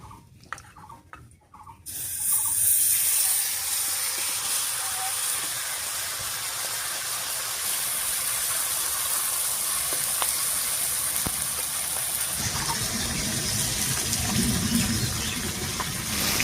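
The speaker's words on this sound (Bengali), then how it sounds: "এবারে মেখে রেখে মাছটা দেব।" Marinated puti fish drop into hot oil after a cumin and bay leaf tempering, setting off a sudden loud, steady hissing sizzle that continues alone and swells slightly near the end.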